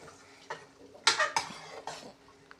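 Ladle clinks and scrapes against a metal pressure cooker while brinjal and toor dal sambar is stirred with its tempering, several short separate knocks and scrapes close by, with no talking.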